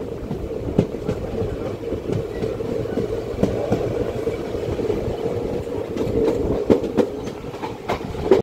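Nagercoil–Thiruvananthapuram passenger train 56305 rolls steadily along the track, a continuous close rumble with rhythmic wheel clicks and clanks over rail joints, loud and even throughout with no talk.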